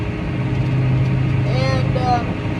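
Steady low diesel drone from a tractor cab, planting milo with a planter in tow; continuous and close, with a faint higher whine rising and falling near the end.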